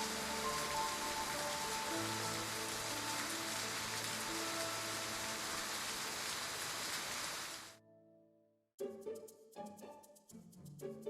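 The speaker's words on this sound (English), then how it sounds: "I wanted the rain to last a little longer." Steady rain in a video game story scene gives a dense, even hiss for several seconds, then cuts off abruptly, and soft musical notes follow.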